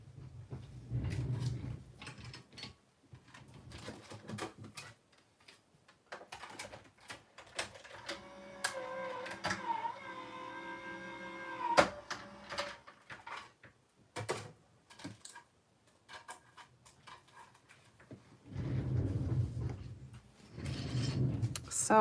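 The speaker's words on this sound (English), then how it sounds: "I'm just going to go ahead and run them through my big machine over here real quick." A big die cutting machine runs card pieces through, giving a mechanical whirring and grinding with clicks and ratcheting. It swells into a steady tonal hum, then comes in bursts with quieter gaps between them, close up in a quiet room.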